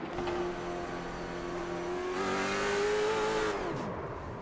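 Late model race car on a short oval at Langley Speedway in the iRacing sim, engine held at a steady loud drone, then pitch rising briefly before dropping off as the rear end comes around in a spin, heard from onboard with no talk.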